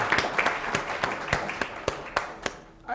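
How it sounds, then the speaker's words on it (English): Audience applause for a late-substitute panelist at a city talk event on bitcoin and blockchain, a brief burst of dense clapping with a few sharp claps standing out, tapering off after about three seconds. "let's have a big round of applause for Santiago."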